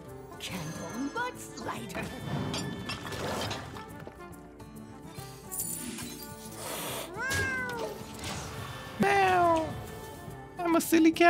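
A cat card in the Hearthstone card game meows in several rising and falling cries among chiming, mechanical game effects, with a voice talking over parts of it.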